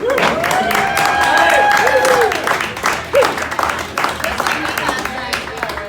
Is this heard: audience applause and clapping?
yes